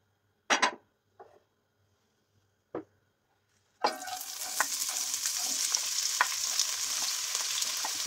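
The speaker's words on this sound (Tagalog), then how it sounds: "Ang una ko pong gagawin ay gisahin ko muna yung sibuyas." A few sharp clatters and taps from a pan come first, then sliced onions hit hot cooking oil and a loud, steady sautéing sizzle takes over for the rest, close up with scattered pops.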